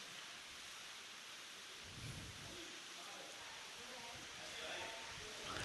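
Rain falls steadily during an outdoor religious discourse, a soft, even hiss with faint low rumbles underneath, heard at a distance.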